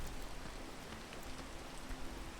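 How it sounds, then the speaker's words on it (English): Rain falling in the climbing video game PEAK, a faint, dense, even hiss of droplets that continues steadily with no one talking. "I didn't know it was gonna start raining when I was prepping for the run."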